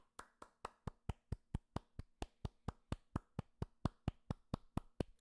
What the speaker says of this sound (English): So we're going to clap it up.